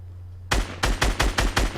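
Gunfire in Fortnite: five loud, evenly spaced shots fired at a steady rhythm, each a sharp close crack, over a low constant hum.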